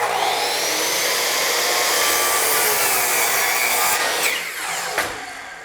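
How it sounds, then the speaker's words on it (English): A power saw cuts through wood trim during finish carpentry, a loud, steady high whine with a rasping bite into the wood that tapers off near the end as the blade winds down. "Start the blade, and then once the machine is running,"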